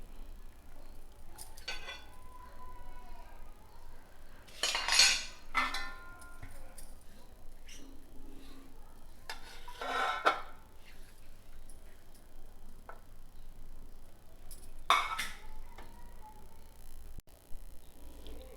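Raw mango pieces are mixed with salt and chili powder using a spoon, giving sparse, quiet scraping and clinking strokes at irregular intervals against a low, hushed background.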